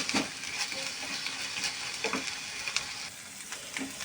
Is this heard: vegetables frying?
yes